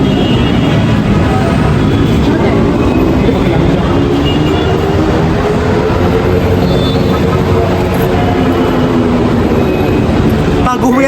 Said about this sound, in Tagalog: Sa LRT po kami ngayon.